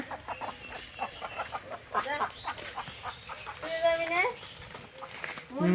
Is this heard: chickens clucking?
yes